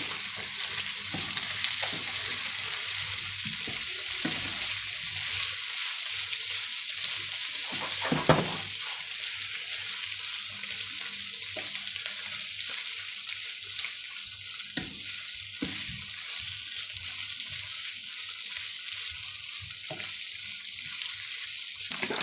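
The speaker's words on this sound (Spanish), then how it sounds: "Y removemos." Food sizzles and fries steadily in a pan with oregano, black pepper and salt while it is stirred, giving a continuous bright hiss broken by occasional scrapes and knocks of the utensil against the pan.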